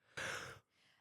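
One person yawns close by: a single long, breathy exhale that fades into a softer, airy tail.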